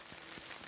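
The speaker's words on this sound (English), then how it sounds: "You might be able to hear the pouring rain now." Faint pattering of pouring rain on a tent on the Pacific Crest Trail, a soft steady hiss with a few dull drop taps.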